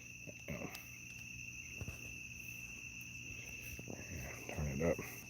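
Crickets chirp steadily at night around a parked 2-ton truck, a thin continuous high trill that runs throughout at moderate distance, with faint frogs and brief bits of nearby speech.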